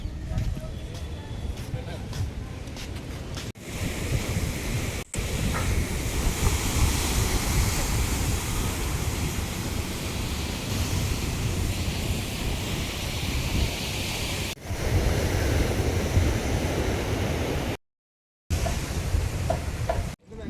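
Surf rolling onto Pondicherry beach at night, a steady, broad wash of waves with heavy wind buffeting the microphone and voices mixed in.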